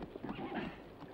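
Horses in a western movie scene shuffling and stamping nearby, a brief muffled flurry of hoof movement and snorting at moderate volume.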